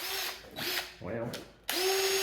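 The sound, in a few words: power drill with drill bit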